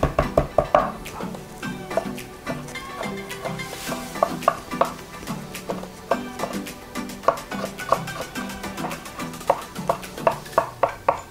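Ginger being bruised and finely chopped with a knife on a cutting board, a steady run of crisp, close taps and thuds in an uneven rhythm, with a few harder knocks among them.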